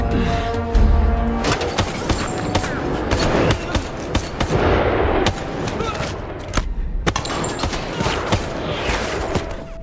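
Bursts of gunfire in a building shootout scene from an Indonesian action film, loud rapid shots and volleys with mechanical clatter and creaks, dense and continuous over about ten seconds.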